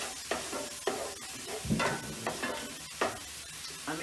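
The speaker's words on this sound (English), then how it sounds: "frying up my oil and garlic" Oil and garlic sizzling softly in a pan with intermittent stirring and scraping sounds, fairly quiet and close.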